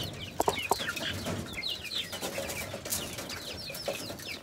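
A bantam chicken clucks in short, scattered calls, close by, with other farmyard birds and background noise around it.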